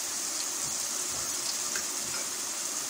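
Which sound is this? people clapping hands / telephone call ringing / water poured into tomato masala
water poured into tomato masala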